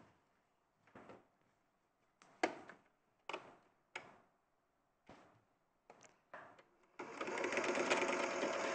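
A sewing machine stitches a quilt seam in a series of short bursts, then runs a longer continuous stretch at the end, close by with no talking.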